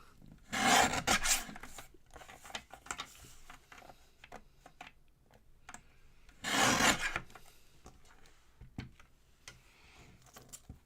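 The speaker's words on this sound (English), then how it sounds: "I'm just going to trim up the edges of this card that I pulled apart." Edges of a pulled-apart paper card being trimmed at a craft table, two longer rasping scrapes separated by scattered light ticks and rustles, close and alone.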